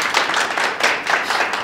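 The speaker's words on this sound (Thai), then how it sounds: "ควรจะได้ปรบมือให้ครับ" An audience in a university doctoral class on political communication claps, a brief steady burst of applause with rapid, even clapping throughout.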